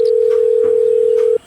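A telephone dial tone sounds as a number is about to be dialed, one loud continuous steady tone that cuts off abruptly near the end.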